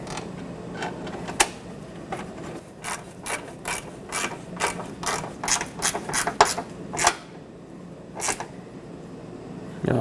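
A ratchet clicking in quick bursts while tightening the lower bolt of a fog light bracket on a 2011-2016 Ford F-350, close and crisp with short pauses between runs of clicks.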